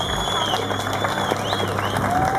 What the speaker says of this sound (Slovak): Ale chcem počuť od vás jeden krásny potlesk